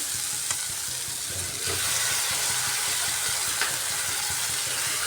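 Paneer hits a hot pan and sizzles steadily, a loud, even frying hiss with faint stirring scrapes, continuous throughout and free of any talk.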